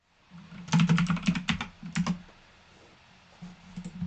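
A computer keyboard is typed on in quick bursts of clicking keystrokes, first a dense run, then a pause and a few more scattered taps; close and clear, with no talking.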